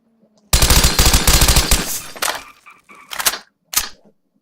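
Rapid gunfire in a shooting video game, a dense burst of automatic shots for about a second and a half followed by a few scattered single shots, loud and close.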